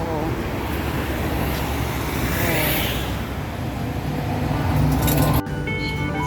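Busy Singapore street traffic with many cars and crowds: a loud, unbroken roar of engines and tyres close by, with a faint clink near the end.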